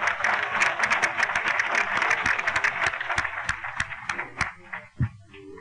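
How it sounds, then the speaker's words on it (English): Audience applause fills the hall at a 75th anniversary dinner and dance, a dense steady wash of many hands clapping, with a few louder nearby claps standing out before it thins out at the end. "Now give those people a round of applause if you would,"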